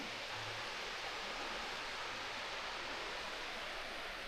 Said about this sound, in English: It's a beautiful waterfall here.